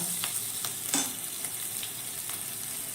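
Cumin seeds and grated ginger fry in hot oil with a bright, steady sizzle and a few soft stirring taps over about three seconds, no talking.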